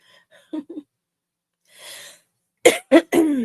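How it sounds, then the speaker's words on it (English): A few sharp throat-clearing coughs up close, a soft pair of hacks first, then three harsher, louder bursts after a short breathy pause. "Clearing my throat a lot today."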